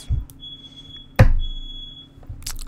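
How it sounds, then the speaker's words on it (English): A smoke alarm sounds indoors in a steady high-pitched tone that cuts out briefly and resumes, over a quiet room with a sharp knock partway through. "I don't know why the smoke alarm is going off"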